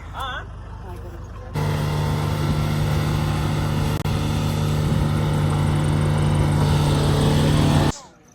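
Heavy machinery of a JCB, tractor and dozer pulling a stuck Fortuner out, heard as a loud, steady, close engine drone that rises sharply after a quieter start and holds before cutting off near the end.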